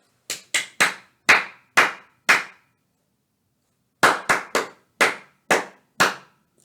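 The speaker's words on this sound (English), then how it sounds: "A rhythmic ostinato is a rhythm pattern." A clapped rhythmic ostinato, sharp close hand claps in a short uneven pattern of six, a pause, then the same pattern repeated, crisp and isolated against silence.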